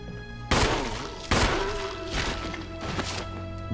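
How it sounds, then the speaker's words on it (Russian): Gunfire from a weapon aimed at a zombie in the Resident Evil HD Remake video game: four loud, sharp shots spaced roughly a second apart, each with a booming decay, heard alone without talk. "Девять выстрелов на зомбака."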